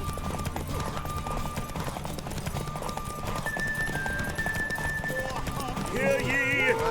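A horse named Roach gallops in a derby race in The Witcher 3, steady clip-clop hoofbeats running under music, with a brief whinny near the end.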